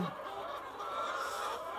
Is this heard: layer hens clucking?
yes